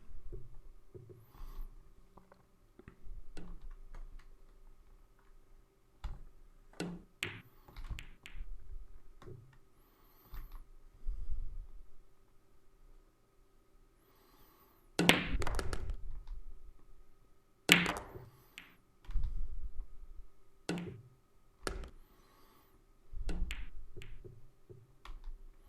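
Pool balls clack in the Virtual Pool 4 video game during a 9-ball match, with scattered sharp ball strikes and a louder break-like crack midway, heard alone over a quiet background.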